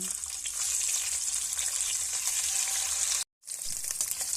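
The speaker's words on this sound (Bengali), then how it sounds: "এই তেলের মধ্যেই দিয়ে দেব লবণ হলুদ মাখিয়ে রাখা ডিম" Eggs coated in salt and turmeric fry in hot oil while cooking chicken dak bungalow curry, giving a loud, steady, close sizzle with a brief dropout near the end and no talking.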